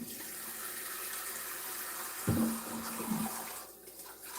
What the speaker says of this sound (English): So I'm just going to wash it pot quickly.